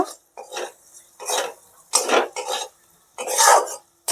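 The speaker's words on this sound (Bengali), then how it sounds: "এবার এটাকে আমি ভালো করে মিশিয়ে নেব" A spoon working cumin and spices around a cooking pot in separate scraping strokes, about seven bursts with short silent gaps between them, close and fairly loud with no sizzle beneath.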